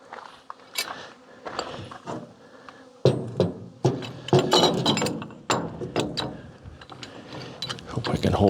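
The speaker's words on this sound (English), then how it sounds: "now I need to use my big wrench" A big wrench worked on metal gives repeated ratcheting clicks and sharp metallic clinks, close and fairly loud, growing busier after the first few seconds, with no talk.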